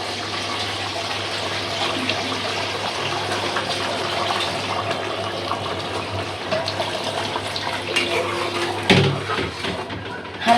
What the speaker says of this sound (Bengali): জলটা দিয়ে দেই